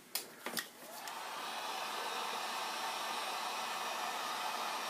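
A heat gun or hot-air blower warming shrink tubing over a soldered joint in a battery build for a Zenith Trans-Oceanic radio, starting after a few small clicks and then blowing in a steady, close, even hiss.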